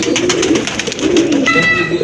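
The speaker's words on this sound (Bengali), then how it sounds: "আরেক জোড়া কবুতর" Pigeons cooing close by, a few soft throaty coos in succession, with faint chirping in the background.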